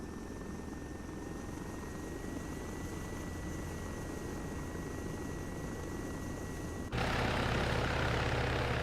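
A video game helicopter drones with steady rotor and engine noise, loud and continuous, swelling to a louder, rougher roar near the end.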